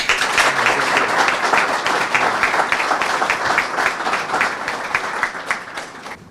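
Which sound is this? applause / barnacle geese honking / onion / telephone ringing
applause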